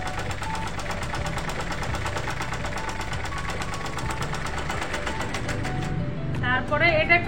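Sewing machine running steadily while making small stitches, a close rapid mechanical clatter with an even rhythm throughout, ending in a brief change of motion near the end.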